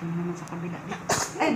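A three-month-old baby sneezes once, a short sharp burst close by, while someone talks in Tagalog and Bisaya just before and around it.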